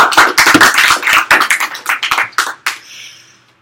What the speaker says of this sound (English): Let's all give him a huge clap.